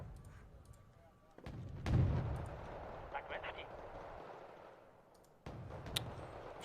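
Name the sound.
mortar artillery fire in video game Wargame Red Dragon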